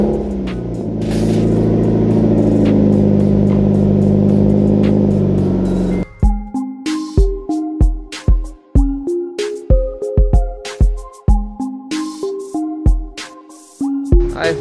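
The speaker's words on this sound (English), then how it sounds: "Midori cold start." Midori car engine cold-starting: a steady engine roar for about six seconds, then it drops away into sharp, rhythmic tonal bursts that carry on to the end, fairly loud with no voices.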